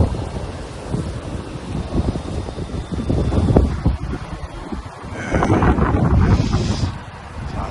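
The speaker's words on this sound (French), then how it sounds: "Oh, il y a un petit vent frais." Gusty cool wind buffets the microphone at an outdoor construction site, a loud low rumbling roar that swells, dips briefly around the middle and surges again, with no speech.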